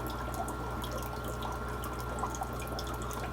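Water flows steadily from the valve of a homemade drip system into a tank, a close, continuous trickle with light splashy drips over a low hum, no voices.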